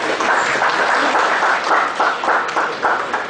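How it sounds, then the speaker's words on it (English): Audience at a professional seminar on tax return filing applauds a speaker being welcomed to the dais, a short, steady burst of crowd clapping heard close. "Big round of applause, ladies and gentlemen."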